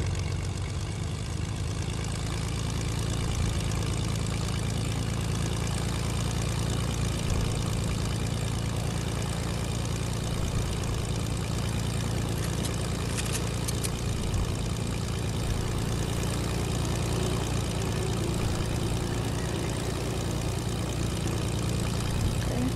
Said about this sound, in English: You want to still use the plane?